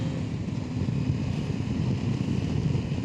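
Wind buffets the helmet microphone of a rider on a 2025 KTM 890 Adventure R out on the road, a loud, steady roar of rumbling noise that fills the whole clip with no voices.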